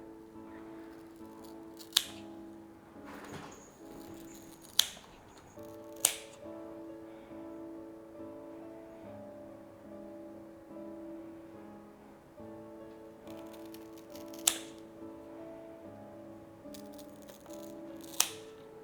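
Sharp scissor snips cut plant stems at a node to take cuttings for propagation; about six crisp, isolated clicks come at irregular intervals over a low steady background hum.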